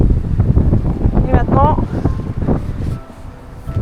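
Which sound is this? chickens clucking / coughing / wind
wind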